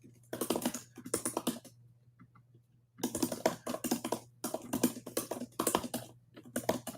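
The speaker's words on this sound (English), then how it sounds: "Tap them keys" Fast, clicky typing on a computer keyboard comes in dense bursts close to the mic, with one pause of about a second, over a steady low hum and no talk.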